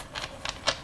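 A deck of Anglo playing cards spread across a surface in three quick, crisp papery bursts, close and fairly loud, with no voices.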